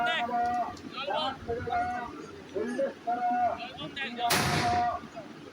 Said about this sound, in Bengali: আবার বলতে বলতে আরও বাজি পোড়ানো স্টার্ট হয়ে গেছে।